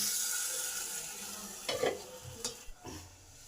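A steady sizzle of potatoes frying in a pan, with a few sharper clatters and stirring scrapes near the end.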